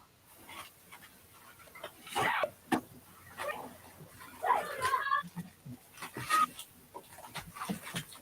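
A dog pants close by in quick, breathy bursts, with occasional whimpers, while people talk over it during a live chat.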